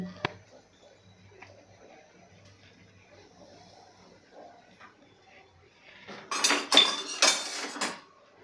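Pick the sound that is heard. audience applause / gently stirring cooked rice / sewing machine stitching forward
gently stirring cooked rice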